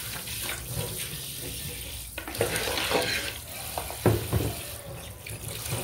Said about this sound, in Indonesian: ayo kita goreng.